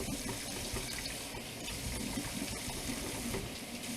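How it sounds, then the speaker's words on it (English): Running tap water pours steadily over mushrooms being washed in a sink, a continuous close splashing gush with no talking. "Washing of the mushrooms."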